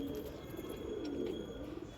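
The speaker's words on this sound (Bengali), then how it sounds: "খুব ভালো পায়রা আছে এগুলো" Pigeons kept for sale coo together nearby, a soft, low, continuous rolling murmur of overlapping coos that carries on steadily under faint background noise.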